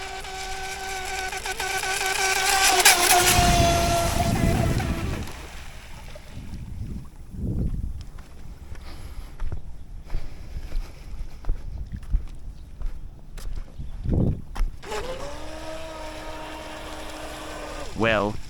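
An electric outrigger boat cruising fast across open water, with wind buffeting the microphone, a strong swell of rushing noise early on, scattered splashes and thumps, and a rising whine near the end.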